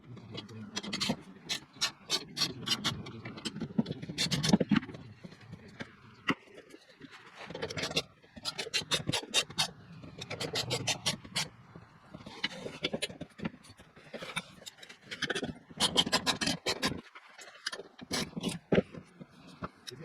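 Bolts are loosened on the legs of a folding table saw stand: a spanner ratchets in quick clicking runs with scraping and metallic rubbing, close up, with brief pauses between spells of work.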